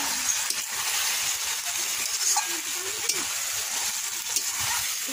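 Chicken masala frying in oil, a steady, close hiss of sizzling with faint clinks of a utensil stirring against the pan, and no talk over it.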